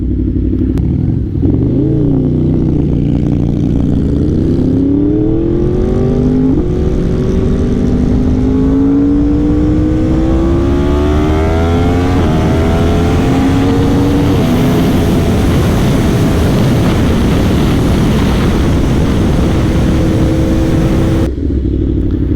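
A 2024 Yamaha R1 sport bike with a Stage 1+ ECU flash, its engine loud and close as it revs and accelerates through climbing gear pulls, then settles back, sustained roar for the whole stretch.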